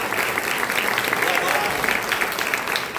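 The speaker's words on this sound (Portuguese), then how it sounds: "Só quem tem responsabilidade aplaude. Aplaude em nome desse Jesus" A church congregation at a Portuguese-language communion service claps steadily and loudly for several seconds, a dense, even applause filling the room.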